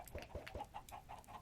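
A chicken clucks in the Minecraft video game, a quick run of soft, regular clucks at a quiet level with no talking over it.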